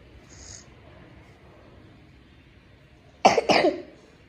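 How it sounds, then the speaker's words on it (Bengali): Two quick coughs from a person close by, loud and clipped, after a stretch of quiet room noise during trip packing. "তোমার তো অনেক কাশি হয়ে গেছে"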